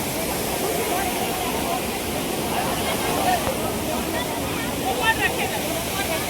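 River water rushing past the Jatmai temple, a loud, steady broadband roar like a small waterfall that runs without a break.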